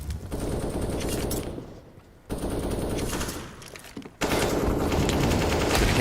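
Sustained M4 rifle fire in a professional Counter-Strike match, dense rapid bursts in three stretches separated by brief lulls, loud and close, with no talk.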